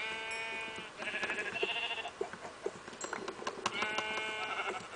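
Sheep in the game Minecraft bleat repeatedly and fairly quietly in short, wavering calls, several overlapping bursts spread across the stretch, with no talking.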